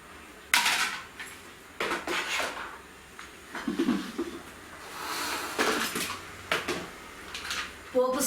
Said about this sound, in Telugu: టప్పర్వేర్ బౌల్స్ కర్రీస్ వేసుకోవడానికి విత్ లిడ్స్, టప్పర్వేర్ ప్లేట్స్ 3